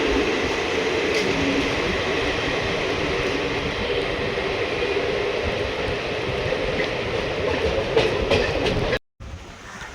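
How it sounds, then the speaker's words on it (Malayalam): Passenger train on the Mangalore–Tambaram line pulling into Kannapuram railway station in Kerala during rain, a steady loud rumble of wheels and carriage noise running continuously, then cutting off abruptly near the end. "ട്രെയിൻ കണ്ണപുരം റെയിൽവേ സ്റ്റേഷനിലേക്ക് എത്തിയിരിക്കുക."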